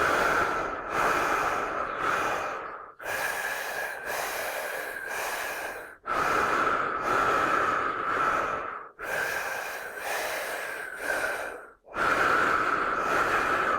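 Intense rhythmic breathing exercise: four long runs of forceful, rapid in-and-out breaths, each about three seconds, separated by brief pauses. The breathing is loud, close and alone, with no talking.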